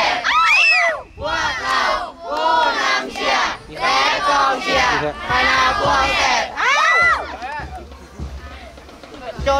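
Children shout and chant in unison at a Thai school sports day cheer session, repeated loud rhythmic bursts of massed young voices with short pauses between, close and energetic, fading to quieter crowd noise at the end.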